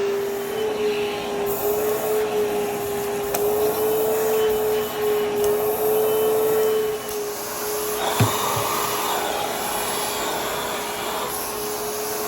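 A Zefiro 28Kpa bagless canister vacuum cleaner runs indoors with a loud, steady whining drone that shifts in tone partway through, followed by a brief knock, with no talking.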